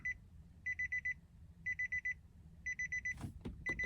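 A Nissan 370Z's warning chime beeps in repeated groups of four or five quick electronic tones, followed by a few soft knocks.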